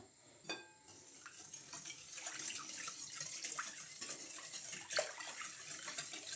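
Soft, continuous scraping and swishing of a utensil stirring doughnut batter with sugar and yeast in a bowl, with a few light clinks, fairly quiet and close.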